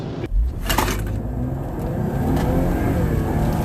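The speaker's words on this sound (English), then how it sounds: "I'm gonna do a quick recording of just normal driving, let everything adapt." A 2021 Ford Explorer ST with a Whipple supercharger drives along, its engine droning steadily with a rising whirring note, heard from inside the cabin after a brief thump at the start.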